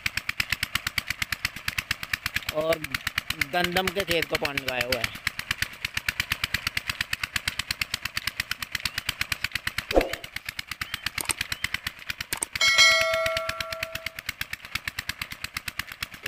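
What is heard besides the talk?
16 horsepower Peter diesel engine running tube well pump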